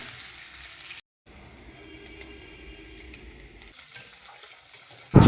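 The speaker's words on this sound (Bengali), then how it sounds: "এবার শুকনো লঙ্কা আর পেঁয়াজ ভেজে নিচ্ছি।" Dry red chillies and onion frying in hot mustard oil with black mustard seeds, a soft steady sizzle broken by a brief silent gap, ending with a sudden loud clatter.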